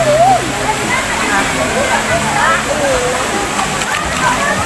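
Free-flowing water at San Benon in Irosin, a steady rushing and splashing that stays loud and continuous throughout, with people talking over it.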